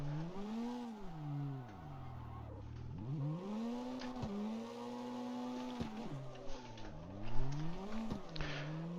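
A Nissan S18 240SX drift build in the CarX Street driving game, its engine note rising and falling through revs with repeated dips and surges, loud and continuous, with brief tire-scrub bursts and no talking.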